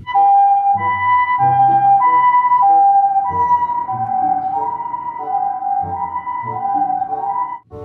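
A toy ambulance gives off its electronic siren, a loud two-tone wail that keeps alternating over a steady low buzz for the whole stretch with no talking.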